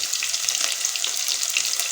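Sliced onions dropped into hot oil for beef liver (kaleji) curry, giving a steady bright sizzling hiss throughout, close and even, with no talking.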